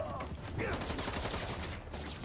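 Armed thugs firing guns in Marvel's Spider-Man 2: a short stretch of dense rapid gunfire rattles under combat noise, moderately loud and close.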